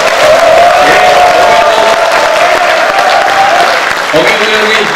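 A crowd at a regional councillors' rally for decentralisation claps loudly in sustained applause with a few whoops and cheers, while an amplified voice speaks over it.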